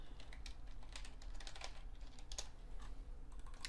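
Rapid keystrokes on a computer keyboard while entering code, a steady close clatter of key presses with brief pauses, no talking.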